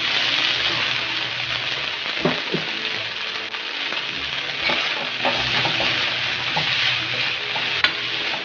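Four spoonfuls of alamang shrimp paste sauté in a pan with a steady, loud sizzle and frying hiss, broken by occasional scraping clicks of stirring.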